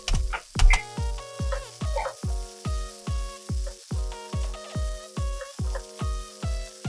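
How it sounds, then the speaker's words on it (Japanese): Bacon sizzles with onions in a hot frying pan, a steady crackling hiss under a regular pulsing rhythm of stirring strokes, close and prominent, with no talking. "ここでベーコンを投入します。"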